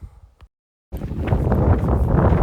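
After a short silence, strong wind near Eigerøy Lighthouse buffets the microphone with a loud, continuous roar and gusting rumble.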